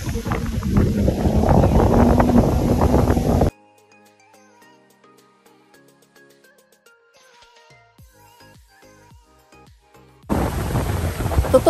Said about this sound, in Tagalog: Tignan niyo yung hangin, yung lakas ng hangin.